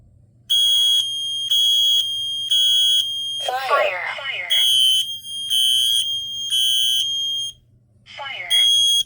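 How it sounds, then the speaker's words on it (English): A Kidde I12010SCO combination smoke and carbon monoxide alarm sounds loud repeated electronic beep bursts in a steady rhythm, with a spoken voice alert breaking in between the tones. "First alarm we're going to test is the Kidde I12010SCO."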